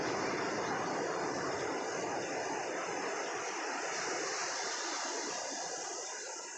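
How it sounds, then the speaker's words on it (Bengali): Ocean surf rolling in at Cox's Bazar beach, a continuous loud broadband wash of breaking waves that eases slightly toward the end, with no voices. "ওই যে একটা ঢেউ আসতেছে, ওই যে ঢেউটা দেখতে পাচ্ছেন আপনারা, বিশাল বড় ঢেউ।"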